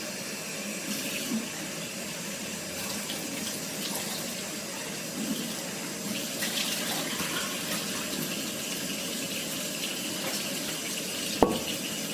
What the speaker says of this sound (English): Let's get all that like extra chickpea juice out because the water's thick from the chickpeas.